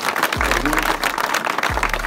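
A crowd applauds at a village cricket tournament event in Phummanwal, Sangrur, with steady, fairly loud clapping throughout and some talk and low hum underneath.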